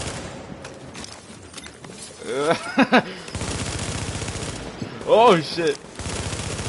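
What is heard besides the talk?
submachine gun gunfire in a video game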